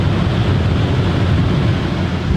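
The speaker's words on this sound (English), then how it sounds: "That is the noise of this Coleman Mach air conditioner." A Coleman Mach air conditioner on a 2019 Grand Design Transcend 31RLS RV runs with a steady, broadband whooshing drone, recorded close up and loud, with no talking over it.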